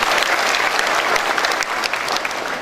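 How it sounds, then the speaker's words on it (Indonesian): A large audience applauds at a university graduation ceremony for FKIP UNS graduates, a continuous, loud wash of many hands clapping with no voices on top. "Tepuk tangan untuk kita semua."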